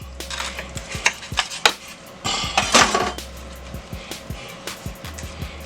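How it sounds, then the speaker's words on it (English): A knife cuts a crispy homemade chicken shawarma wrap in half on a board, making crunchy crackling bursts between sharp taps and knocks, close up. "I like to cut mine in half"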